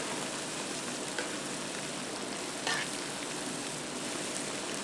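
Grease melts in a pot over high heat with a constant hissing sizzle, a broad and even wash of sound close by, broken only by a couple of faint clicks.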